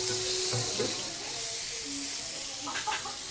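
Masala sautéing in a pan gives a steady, bright sizzling hiss, with faint clinks of stirring over the sizzle.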